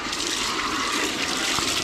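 Water rushes steadily from an outdoor water outlet behind a small house near animal pens on a rainy day, a loud, close, continuous gush with no talking.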